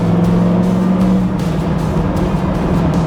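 A 1973 Chevrolet Camaro LT's 350 HP V8 engine roars steadily up close, loud and continuous, with a deep rumble as the car drives on.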